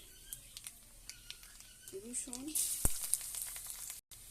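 Garlic and nigella seeds fry in oil in a kadai, giving a steady crackling sizzle that grows denser midway, with a brief faint voice and a few light kitchen taps.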